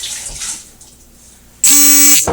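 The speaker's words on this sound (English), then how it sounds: "fill it up, say halfway, with some clean water" Clean filtered water pours into a wide-mouthed reused sauce jar holding juice cubes, a sudden loud rushing splash starting after a quiet stretch and running steadily to the end, with no talk.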